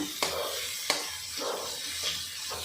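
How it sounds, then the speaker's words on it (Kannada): Onion, green chilli and beetroot mixture frying in oil in a pan for palya, with a steady close sizzle broken by a few sharp stirring scrapes of a spoon. "ಹಸಿ ವಾಸನೆ ಹೋಗೋವರೆಗೂ ನೀಟಾಗಿ ಎಣ್ಣೆಯಲ್ಲಿ ಫ್ರೈ ಮಾಡ್ಕೊಳ್ಳೋಣ"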